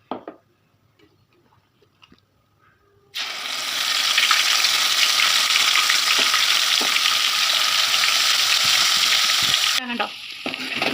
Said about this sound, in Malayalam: ഈ തിളച്ചുകൊണ്ടിരിക്കുന്ന എണ്ണയിലോട്ട് നമ്മളിത് ഇടുക.